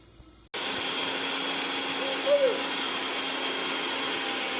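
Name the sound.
mixer grinding onion, tomato, ginger and garlic paste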